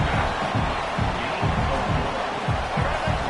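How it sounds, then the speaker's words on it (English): A stadium crowd in an NCAA college football video game roars in a loud, continuous wall of noise with a rhythmic pulsing underneath, building to pressure the defense near the goal line. "This crowd is trying to inspire this defense to make a big red zone stop."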